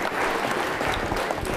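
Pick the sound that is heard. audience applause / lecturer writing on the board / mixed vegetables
audience applause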